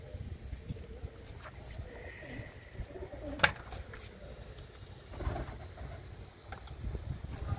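Healthy pet pigeons in a loft of several coops give low, throaty coos at intervals, soft and fairly close amid faint background rustling, with no one speaking.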